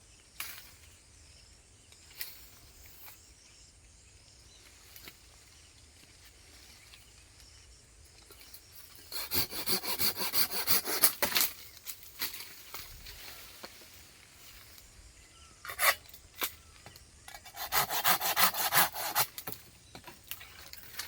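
Banganapalli mango tree branches are cut with a hand saw: after some quiet light knocks, bursts of rasping back-and-forth strokes come in two bouts, fairly close with no talking.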